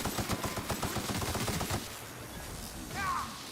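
Rapid bursts of video-game gunfire in The Outer Worlds rattle out for under two seconds, then fade into quieter game ambience with a brief electronic chirp.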